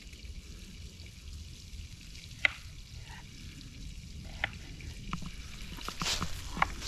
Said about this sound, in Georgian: კარგად იწვება.